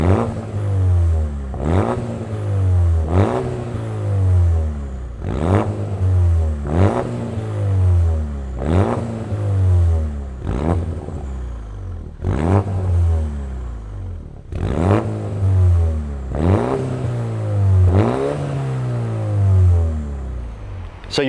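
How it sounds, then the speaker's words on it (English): A Mini Challenge safety car engine fires up and revs hard in repeated loud bursts roughly every couple of seconds, each rev rising and falling back to a rough idle, close by with no talking. "So you've heard what the car sounds like."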